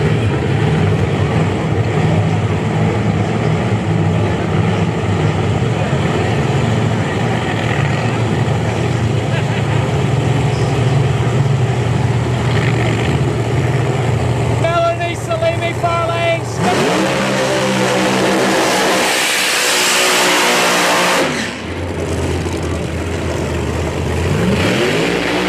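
Pro Mod drag race cars roar loudly and continuously, with a sharp burst of engine noise and rising pitch midway through the pass, as announcers talk over the racing at a drag strip.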